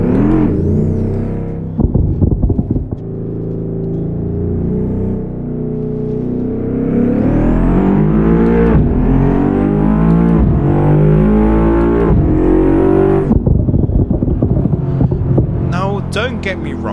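Simulated car engine from the Assetto Corsa racing game, revving up and down through gear changes with rising and falling pitch sweeps, loud and continuous, with some speech mixed in.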